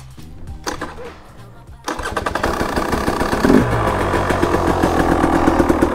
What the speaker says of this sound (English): let's get the bike a little bit warmed up